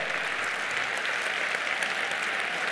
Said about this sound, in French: Joëlle, André, si vous voulez bien vous lever et qu'on puisse vous applaudir en tant que diamant.